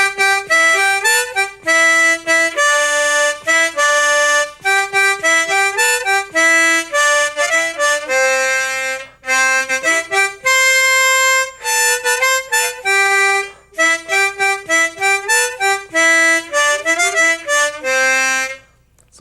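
A harmonica melody played with tongue blocking, two notes sounding at once from both sides of the mouth, a lively run of short and held notes with brief breaths between phrases, close and solo.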